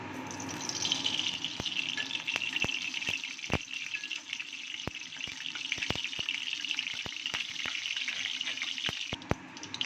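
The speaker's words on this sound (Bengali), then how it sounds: "কড়াতে একটু তেল দিয়ে দেব" Oil heating in a kadai for a vegetarian brinjal and bori curry, a steady close hiss and crackle running throughout with a few sharp clicks and taps, no voices.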